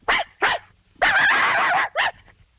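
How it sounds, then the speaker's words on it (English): Dogs yipping and howling in a movie scene: two sharp yips, then a long wavering howl, then another short yip, loud and close, with no talk over them. "One long howl, two short, one yip and a woof."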